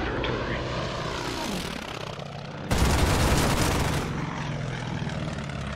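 An enemy fighter plane's propeller engine drones loudly in the WWII strategy game Order of Battle, rising and falling as it sweeps past, then a dense rattle of gunfire bursts in for over a second before the engine hum carries on.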